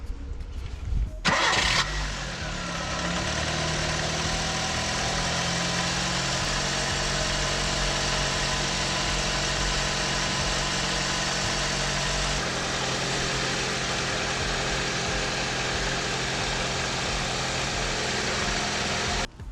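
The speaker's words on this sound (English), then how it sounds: "Okay, so let's start the engine." A Nissan Micra K11 engine cranks briefly and catches, then settles into a steady, loud idle with constant droning vibration that continues unbroken for the rest of the clip, with no voices.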